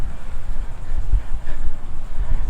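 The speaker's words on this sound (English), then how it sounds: "a bit windy up here" Gusty wind buffeting the microphone on the rooftop of a 1672 stone fort in St. Augustine, Florida, a low rumbling roar that rises and dips in waves.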